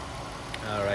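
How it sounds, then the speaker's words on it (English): 2014 Dodge Grand Caravan's 3.6 liter VVT V6 idling smoothly, a steady low hum close up with no knocks, swelling slightly at the end. "very smooth running engine, no odd noises or vibrations"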